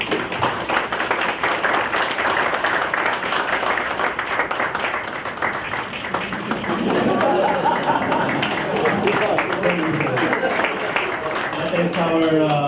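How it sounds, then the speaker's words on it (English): A room at an Interpol press briefing breaks into a warm round of applause, many hands clapping steadily for several seconds, swelling midway, with voices talking through it. "Let's give him a warm round of applause."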